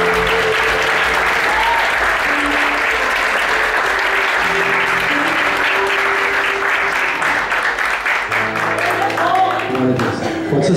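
A church congregation claps loudly and steadily throughout a worship service, with sustained applause under a held keyboard or organ tone.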